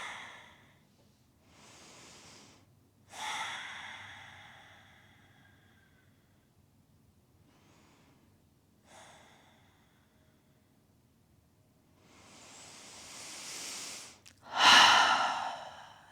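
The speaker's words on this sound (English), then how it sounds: "Breath by breath, find your depth." Slow, deep breathing during a yoga pose: several long inhales and exhales spaced by quiet gaps, close and soft, ending in a louder, forceful exhale.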